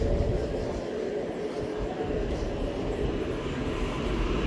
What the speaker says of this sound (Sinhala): මේ මෙතන තියෙන්නේ මේ තියෙන ක්‍රැන්බර්න් ලයින් එක ට්‍රේන්